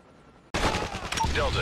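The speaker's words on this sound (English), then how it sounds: "Stealth chopper inbound." Stealth chopper helicopter scorestreak in Call of Duty arriving with a sudden loud burst of rotor roar and gunfire-like crackle after half a second of near silence, sustained and dense throughout.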